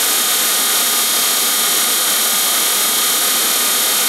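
An electric motor runs steadily while fed power from a rotary transformer coil, giving a loud, constant whirring hum with a bright high-pitched whine, continuous and close, with no talking.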